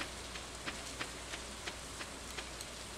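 Steady rain falling in the farming video game Stardew Valley, a continuous soft hiss of drops with faint regular ticks repeating roughly every third of a second.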